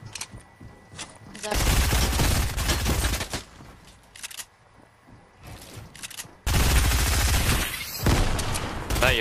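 Grenade explosions in Fortnite, two loud booming blasts with sustained roaring bursts of debris and gunfire, separated by a quieter stretch with faint game sounds and a voice.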